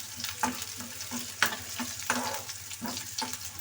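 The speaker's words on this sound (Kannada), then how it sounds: "ಇದು ಶುಂಠಿ ಬೆಳ್ಳುಳ್ಳಿ ಪೇಸ್ಟು ಸ್ವಲ್ಪ ಮಧ್ಯದಲ್ಲಿ ತಗೊಂಡು ಇದು ಚೆನ್ನಾಗಿ ಕರ್ಕೊಳ್ಳಿ" Ginger garlic paste frying in a pan with a steady close sizzle, punctuated by regular spoon scrapes and stirring knocks roughly every half second, no talking.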